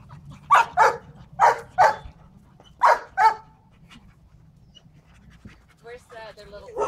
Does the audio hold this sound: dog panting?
yes